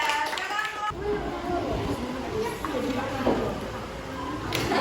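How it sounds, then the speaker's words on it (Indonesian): Classmates applaud group 3 after their presentation in a classroom, a steady wash of clapping from a small group filling most of the moment, fairly soft and slightly distant, with voices mixed in. "tepuk tangan untuk kelompok 3"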